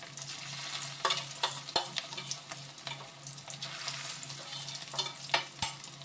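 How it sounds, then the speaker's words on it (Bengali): Pieces of katla fish belly frying in oil make a soft, steady sizzle, with clinks and scrapes of a spatula in the pan at scattered moments. "পুরো সবগুলো মাছ আমি ভেজে নেব এই দেখো আবারও দিয়ে দিচ্ছি কটা মাছ দিয়ে দিলাম"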